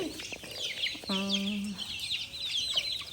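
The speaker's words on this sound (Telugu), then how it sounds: "మన కోడి పిల్లలు అయితే బాగున్నాయి" A backyard hen lets out one drawn-out, close cluck while young chicks keep up a busy high chirping throughout.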